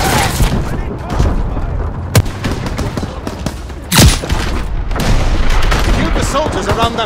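Battle in Call of Duty WW2 with rapid gunfire and heavy booming explosions, dense and loud throughout, with sharp shots and a big blast near the middle, voices shouting amid the fighting.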